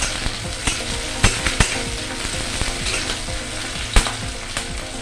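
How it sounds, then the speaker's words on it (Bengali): Onion and garlic fry in a pan with black cumin and green chillies, a steady close sizzle broken by sharp scraping knocks of stirring, loud and without speech. "এবার একটু পেঁয়াজ আর রসুনটা একটু ভাজা ভাজা করে নেব।"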